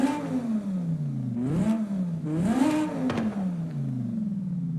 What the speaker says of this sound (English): What a nice sounding V10